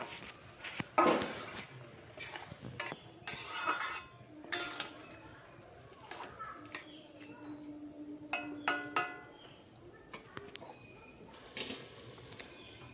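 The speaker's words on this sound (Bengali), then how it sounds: "এবার এগুলো ভালো করে নেড়ে চেড়ে নিয়ে একটু কষিয়ে নেব সুন্দর করে।" A metal spoon repeatedly scrapes and clinks against a pan while spices are stirred and fried for Kashmiri dum aloo with ground pepper and cumin paste, sounding as irregular close taps and scrapes with faint sizzling between.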